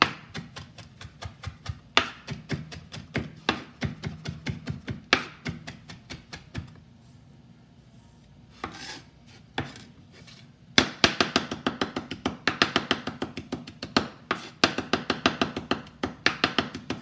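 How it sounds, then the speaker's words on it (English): Garlic minced with a kitchen knife on a cutting board: rapid, close rhythmic chopping taps in steady bursts, a quieter pause midway with a few scattered knocks, then a denser run of fast chops. "You almost want to mince it to a paste."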